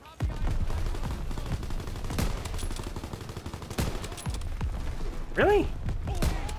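K98 bolt-action rifle shots in the Call of Duty WW2 video game ring out amid a steady din of gunfire and battle noise, with sharp cracks spread through the scene and a brief spoken word.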